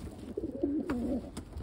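A white homing pigeon coos in an aviary, a short soft rolling call rising and falling, close by over a low background hum, with faint rustles.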